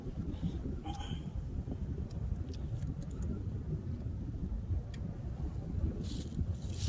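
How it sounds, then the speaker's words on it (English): Strong wind roars and buffets the microphone in a constant low rumble beside beehives, with a few faint higher noises drifting in near the end. "Very windy today."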